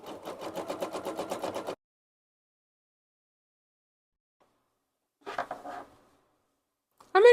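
Sewing machine zigzag-stitching around a rip in jeans: a rapid, evenly pulsed whir for under two seconds, then silence, then two more brief bursts of stitching.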